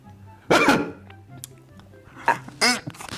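A dog sneezes in a quiet indoor room: three sharp, close bursts, one single and then a quick pair, with soft background sounds between them.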